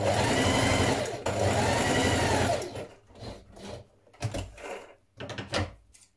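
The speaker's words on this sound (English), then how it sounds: "So I'm stitching from the wrong side on mine because I can see my marking here clearly." A sewing machine runs a long straight stitch on a bias-cut dress, whirring steadily for nearly three seconds, then stopping and starting in short bursts.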